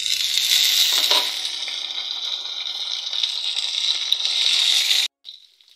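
Tomatoes tipped into a pan of nearly cooked frying onions for a Pahadi-style tori sabzi give a loud, steady, close hiss for about five seconds, then it cuts off abruptly, leaving a faint brief tail.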